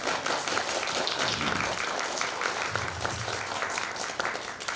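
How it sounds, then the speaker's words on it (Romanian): Steady audience applause at a children's spring Mărțișor concert, dense continuous clapping from a hall crowd, sustained at an even level throughout with no talk over it. "Haideți să-i aplaudăm și să-i încurajăm!"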